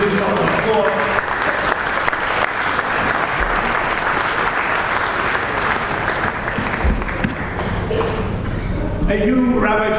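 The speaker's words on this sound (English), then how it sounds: "give yourself an applause" An audience at a tenth-anniversary celebration of Chabad of Rechavia applauds: loud, dense clapping runs throughout, with a hint of voices near the end.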